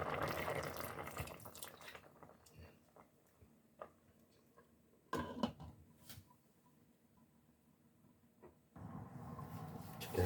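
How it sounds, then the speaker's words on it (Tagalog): Datu Puti white vinegar is poured into a pot of tulingan fish, a gurgling liquid splash at first, then faint drips and small clinks, a brief sharp splash in the middle, and a final louder stream of pouring. "So maglagay na ako ng dato puti vinegar."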